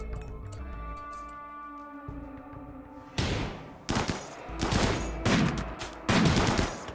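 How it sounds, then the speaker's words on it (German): Rimworld gunfire during a colonist assault on an outpost: a quiet stretch of game music, then loud bursts of rapid shots and volleys in clustered rounds, with no voices. "Ihr beide schießt auf sie da"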